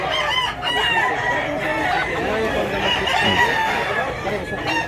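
Roosters crow again and again among clucking chickens at a busy Cebu chicken market in Mantalungon. The dense overlapping calls ring out close and loud, with voices murmuring underneath.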